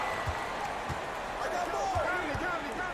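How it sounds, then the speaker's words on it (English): Repeated basketball bounces and a dunk's heavy thud in a basketball video game, regularly spaced dull knocks over steady arena crowd noise, with commentator-style voices and rising crowd reaction near the end. "Oh, and Mitchell powers it home."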